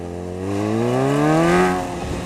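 A Suzuki GSXR 600 motorcycle engine revs up in first gear, its tone climbing steadily and smoothly to a peak before easing off, heard close and alone with no talking.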